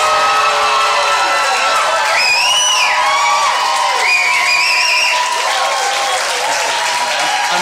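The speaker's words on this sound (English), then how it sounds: "Go ahead, give a round of applause." Loud, dense audience applause with cheering and whoops at an interview event, a continuous roar of clapping with a few shouts rising above it.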